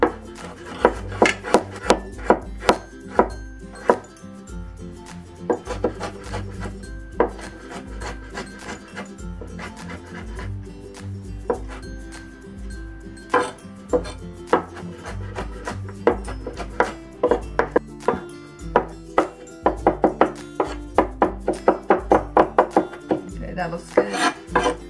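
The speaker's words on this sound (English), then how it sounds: "let's mince the ginger and garlic. We'll just mince it together." A knife mincing ginger and garlic together on a cutting board, with rapid, irregular chopping taps in close bursts that speed up into dense flurries toward the end, with no talking.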